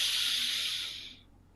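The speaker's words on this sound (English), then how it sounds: "Breathe in." A long, steady breath drawn in during a guided breathing exercise at a conference, a soft airy hiss that holds evenly for about a second and then fades to quiet.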